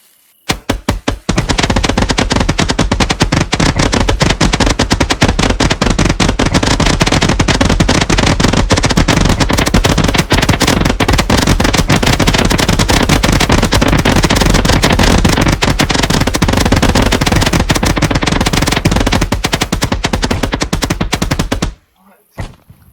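Fireworks going off in the video game Fireworks Mania, a dense, loud, continuous crackling barrage of rapid bangs lasting about twenty seconds before cutting off abruptly.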